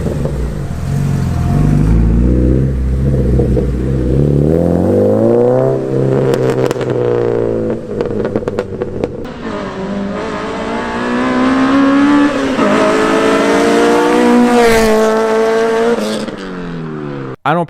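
An Acura RSX fitted with a Skunk2 Mega Power catback exhaust revs hard and repeatedly, a loud, close engine note that climbs and falls through several pulls with brief gaps between them.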